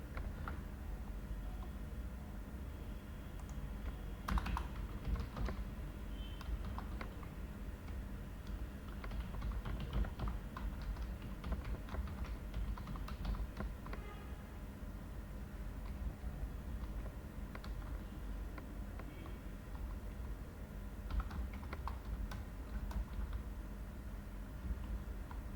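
Fast, continuous typing on a computer keyboard while code is written, with soft close clicks in quick irregular bursts over a faint background hiss.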